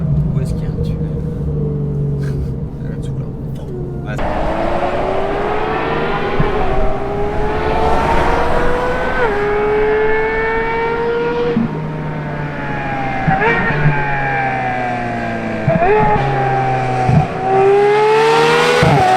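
A Porsche GT3 fitted with an HRE exhaust crossing a bridge, its engine rising through repeated loud revving accelerations with gear changes and howling pitch climbs, close and dominant, with someone talking over it.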